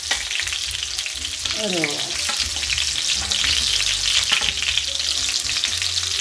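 Couscous meatballs fry in hot oil over high heat with a steady, dense sizzle and crackle. A few utensil clinks and stirring sounds break in, and a voice briefly speaks.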